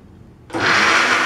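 A food processor switches on abruptly and whirs loudly and steadily, chopping a quinoa and chickpea mixture with a constant grinding blade roar.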